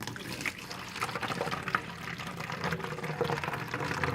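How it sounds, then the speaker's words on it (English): Water is poured into an empty bottle, a soft continuous trickling and gurgling fill heard fairly quietly for several seconds. "So I'm going to put some water in."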